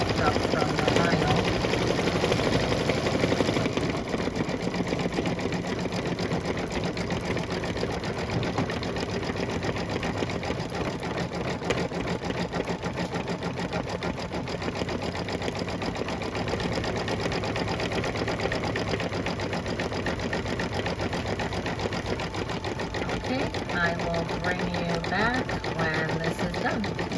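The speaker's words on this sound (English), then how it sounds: "it's now going to stitch the satin stitch" An embroidery machine works steadily through a satin stitch on a Kimberbell "Be Mine" design over vinyl, its motor a continuous close mechanical whir and rattle, with a voice talking over it at times.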